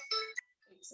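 A mobile phone ringtone goes off during a meeting, a bright electronic melody with a couple of short note bursts and a brief pause, fairly close.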